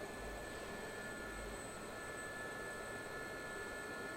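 A Gazelle helicopter hover taxiing in the flight simulator DCS, a steady whining turbine and rotor drone that holds an even, moderately faint level the whole time.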